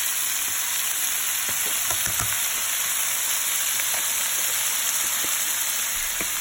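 Chicken pieces fry with cumin in a hot pan while being stirred, a loud, steady sizzle with scattered scraping clicks and no voices.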